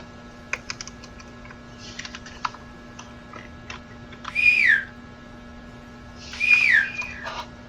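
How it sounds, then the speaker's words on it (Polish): Two rising-and-falling whistles in the video game Backrooms, each about half a second long and a couple of seconds apart, with soft keyboard typing tapping before and between them. "O, można gwizdać."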